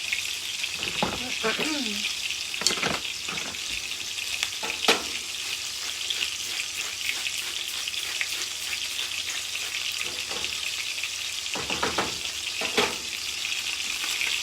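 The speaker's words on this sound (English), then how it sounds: "Okay, our steaks are still cooking." Steaks frying in a hot pan on a home stove give a steady, broadband sizzle throughout, with occasional sharper crackles and clatters of utensils, while broccoli is cooked in salted water nearby.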